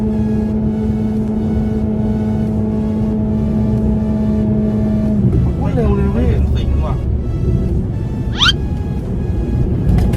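A car driving fast on BFGoodrich g-Forge Phenom tires, with a loud, steady engine and road drone heard from inside the cabin. People talk over the drone, and the pitch shifts midway.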